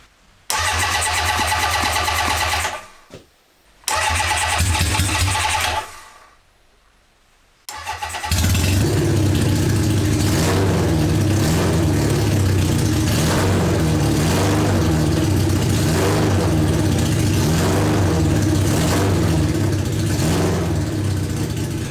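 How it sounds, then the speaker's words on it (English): A Honda CB750 cafe racer project motorcycle cranks over a couple of times with short pauses, then catches and settles into a steady, loud, close-up idle with a throbbing rumble for the rest of the clip. "I'm just going to start it for a little while and see what happens"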